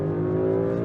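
An Audi RS5 Sportback engine blips in a short sustained rev on a downshift, a smooth harmonic drone heard from inside the cabin, steady and moderately loud.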